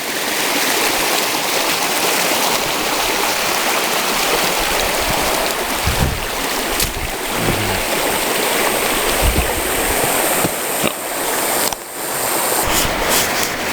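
McGee Creek, a mountain creek in the Tulameen area, rushes continuously over rocks, a full, close hiss of flowing water with no talking.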